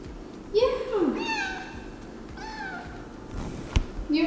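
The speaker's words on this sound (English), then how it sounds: "Kitty just got into the apartment." A cat meows several times, drawn-out rising and falling cries, inside a new apartment on moving day, with soft background noise and a brief knock near the end.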